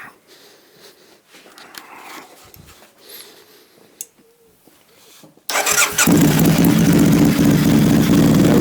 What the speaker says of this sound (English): I think we're ready to try and fire it up.